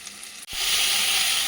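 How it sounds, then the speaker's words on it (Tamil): Ginger and tamarind sautéing in a pan for pirandai chutney: a quiet moment, then a sudden loud, steady hiss of sizzling that continues close by, without talking. "ஒரு துண்டு இஞ்சி, புளி இது நல்லா வதக்கணும்"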